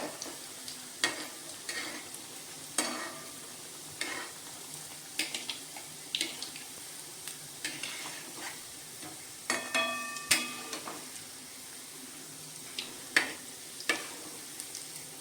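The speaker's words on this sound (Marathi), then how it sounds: "तर वडे टाकल्यानंतर आपण हे सतत आपणाला हलवत राहायचं आहे कारण एकसारखे वडे आपले सर्व भाजले पाहिजेत" Rava medu vada fry in hot oil on medium heat, a steady close sizzle broken by repeated sharp clinks and scrapes of a ladle as they are stirred continuously, with no voices.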